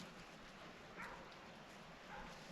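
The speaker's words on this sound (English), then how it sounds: "Dog's barking." A dog barks somewhere beyond a camp set up with a tent used as a tarp shelter. Two or three faint, distant barks stand out over a quiet outdoor background hiss.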